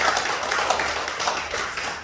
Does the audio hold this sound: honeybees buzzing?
no